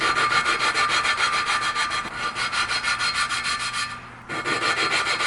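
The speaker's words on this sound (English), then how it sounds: "it's gonna be like a grinding noise, but it changes its tone the more that you grind it." Motorcycle valve from a 1995 Kawasaki KLX250 being lapped into its seat with grinding compound and a suction-cup tool, giving a steady, close, rasping grind that runs continuously with a brief dip near the end.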